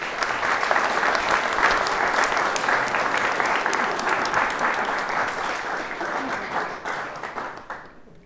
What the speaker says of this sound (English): can we give the parents a big round of applause?